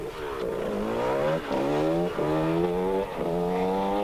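A 125cc racing motorcycle pulls away after a brief pit stop, its two-stroke engine revving up through several quick gear changes in a rising, stepped pattern, heard from a moderate distance with no talk.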